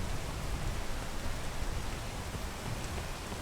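Rain in the video game PEAK, a steady soft hiss of falling drops heard from a sheltered spot, even and unbroken throughout.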